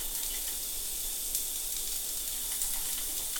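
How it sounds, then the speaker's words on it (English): A steady, soft sizzle of spring onions frying in hot oil in a pan, continuous and fairly quiet with no talking. "I'm just frying them off at this point"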